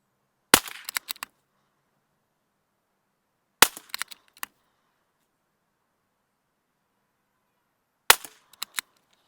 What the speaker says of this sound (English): Let's get shooting.